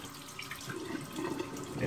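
Tap water runs into a sink for wetting the face during a shave, a soft continuous splashing stream that grows slightly louder toward the end, with no talking.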